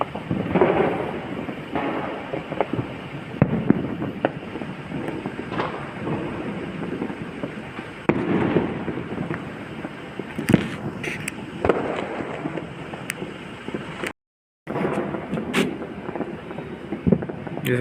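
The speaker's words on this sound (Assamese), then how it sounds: "ফটকা ফুটাই আছে" Diwali firecrackers and fireworks pop and crackle in the distance with a steady rumble of festive background noise throughout, sharp bursts scattered irregularly, one brief dropout near the end.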